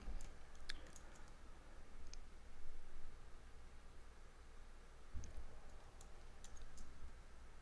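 Keystrokes on a computer keyboard during a software appliance install, a few sparse clicks and taps at a quiet, close level over a steady low hum, with no voice.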